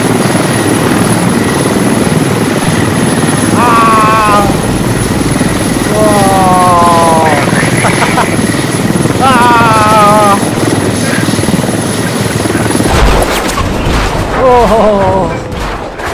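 A helicopter in the video game Squad drones loudly and continuously as it flies, with muffled voices over the rotor noise and a sharp crash-like burst near the end.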